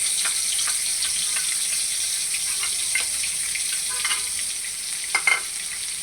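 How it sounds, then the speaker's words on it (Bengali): Onion and garlic paste frying in hot oil in a wok while a chicken curry is made, giving a steady broad sizzle with faint stirring scrapes throughout and a couple of louder clacks near the end. "এখন কড়াইয়ে তেল দিয়ে দিব। তারপর দিয়ে দিব পেঁয়াজ রসুন বাটা"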